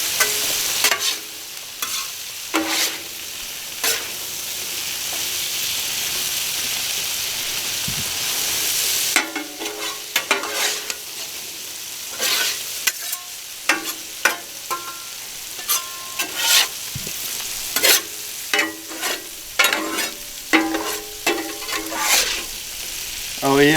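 Butter and spices sizzling in a pan while red potatoes and sausage cook, a steady frying hiss broken by repeated scraping and clattering strokes of a spatula, close and fairly loud, with no talking.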